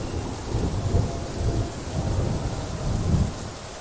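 Rolling thunder rumbles low and heavy over steady, dense rainfall, swelling in a few broad waves across the stretch with no voices, forming a continuous storm ambience for a rain soundscape.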